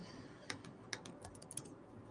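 A computer keyboard is typed on softly in a quiet room, a short sequence of about eight light, irregular key clicks.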